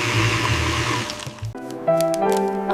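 A blender motor whirs loudly for about a second and a half, then cuts out, and a steady harmonic tone follows.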